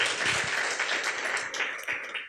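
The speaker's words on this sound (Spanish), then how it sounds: "¿Por qué no les damos un fuerte aplauso?" A congregation in a church bursts into applause, a dense wash of clapping from many hands that swells and stays steady for a couple of seconds.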